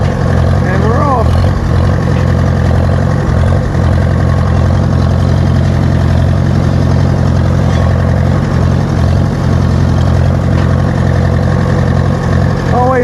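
Farmall H tractor engine running at hay-cutting time, a loud, steady low hum with an even rhythmic chug that continues unbroken throughout.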